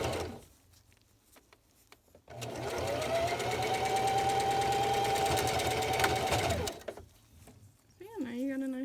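Sewing machine stitching the tie casing of a double-layer fitted cloth face mask, a steady loud whirring run of about four seconds set between quieter handling sounds, with a voice speaking afterward.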